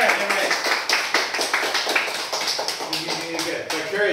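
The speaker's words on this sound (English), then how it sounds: "round of applause for Courage." Classroom applause for a student after a reading evaluation: a small group claps in an uneven, sharp patter, with children's voices and shuffling mixed in.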